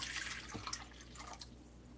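Cold water from a tap trickles and drips into a bowl, quiet and close, with a soft steady flow and no talking.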